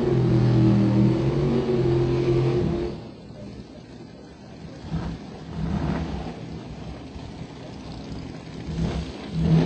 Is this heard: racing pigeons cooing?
no